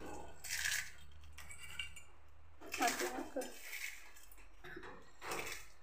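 Goan dry bhel being mixed with spices in a bowl, heard as a few separate bursts of clinking and scraping from a spoon against the dish, quiet and close, with a hum in the background.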